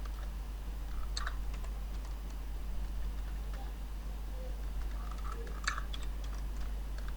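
Someone types a note on a computer keyboard, producing a few faint scattered bursts of key clicks over a steady low electrical hum in a quiet room.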